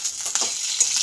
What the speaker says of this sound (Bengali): আমার ডিমটাও মনে হচ্ছে ভাজা হয়ে গেছে।